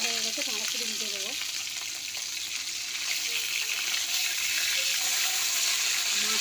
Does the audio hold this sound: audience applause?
no